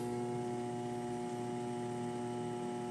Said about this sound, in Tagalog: Ayan, may ugong yung makina.